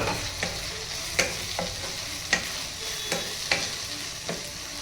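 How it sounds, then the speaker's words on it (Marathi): Softened capsicum for pav bhaji is stirred in a sizzling pan, with regular spoon scrapes and taps roughly every half second to second over a steady frying hiss, close and with no talk. "हे जे शिमला मिर्च आपण शिजत ठेवलेलं आहे ते थोड्या थोड्या वेळाने हलवून बघा नाहीतर करपण्याची शक्यता असते"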